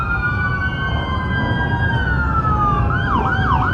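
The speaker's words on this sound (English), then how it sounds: "sirens are going by" Emergency vehicle sirens pass during an Honor Flight veterans' welcome, a loud wailing tone gliding steadily and then warbling fast near the end, over a constant rumble of traffic and engines.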